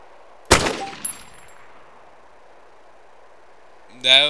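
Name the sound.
gunshots from the video game DayZ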